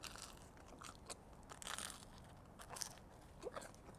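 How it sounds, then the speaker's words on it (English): Crisp bites and crunching on a super crunchy Neapolitan pizza crust, close and faint, with several separate crackly chews spread over a few seconds and no talking. "Listen to this crunch."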